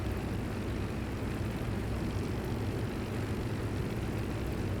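A Spitfire Mk. IX with a blown engine in the DCS flight sim, heard as a constant loud droning roar of engine and airflow that holds steady throughout, with no talk.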